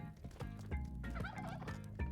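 Turkey gobbling in the cave-exploring platform game Spelunky 2, a burst of repeated gobbles heard close and loud over steady game music, with no talking.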